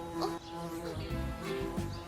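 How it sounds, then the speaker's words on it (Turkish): A bee buzzes close by, its drone wavering in pitch as it moves around, loud and continuous. "Hii, Arı!"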